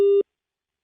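A single steady electronic phone disconnected tone sounds briefly after a call is hung up, then cuts off abruptly into silence.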